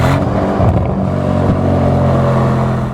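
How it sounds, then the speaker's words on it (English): A 2025 Porsche Panamera GTS V8 engine revs, with a loud, deep, sustained roar heard close up and a small rise in pitch partway through, and no talk. "you want to hear that nice V8"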